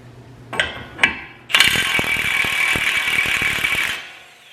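A ratchet works the nuts and bolts that hold the wheel knuckle to the strut on a Chevy Equinox, giving two short clicks and then a steady, close, rapid ratcheting run of about two and a half seconds.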